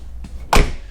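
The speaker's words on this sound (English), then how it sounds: "So when I open the door, you can see you kind of gotta tug it open" A Nissan R33 Skyline car door with stiff detents is tugged open: a small click, then a firm, loud clunk as it releases and swings, with no talking.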